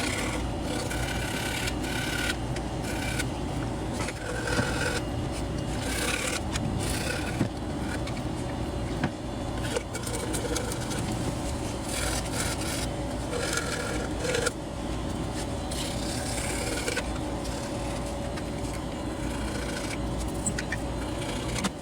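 Plastic scraper scraping old gasket material off an aluminum throttle body on a 1997-2004 Ford F-150, a continuous close rasping and rubbing with short quick strokes throughout.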